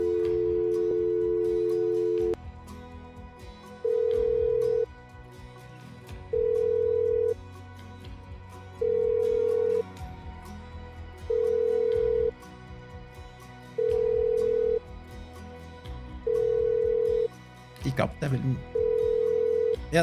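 A telephone in the Simrail train simulator game rings with evenly spaced electronic ring tones after a dial sound, while someone talks over it.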